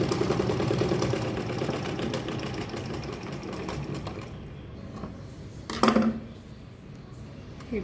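A sewing machine stitches a bag seam with a fast, steady mechanical whirr and rattle. It slows and fades after a few seconds, and a short clunk follows near the end.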